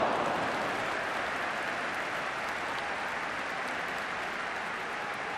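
A football crowd at a Manchester United v Leeds United match applauds and roars after a well-struck shot, a dense, steady wash of clapping and cheering that holds loud throughout with no clear voices on top.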